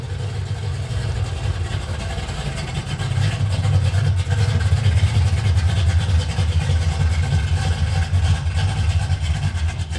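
A 1986 car with a big block engine idles through its exhaust, a steady low rumble that swells a little louder after a few seconds and holds close and continuous.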